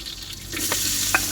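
Garlic and onion sautéing in a hot pan for pinakbet, a short burst of steady sizzling with a couple of light stirring scrapes, close and alone.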